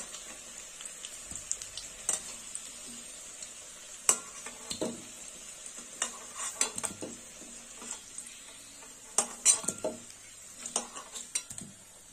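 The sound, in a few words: potatoes frying and being stirred in a pan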